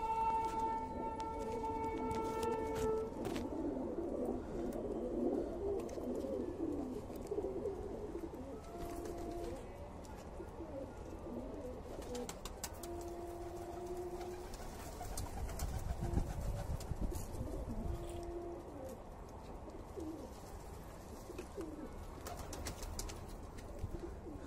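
Soft, low pigeon coos repeat on and off over steady outdoor background noise on a rooftop, with a brief tonal beep near the start.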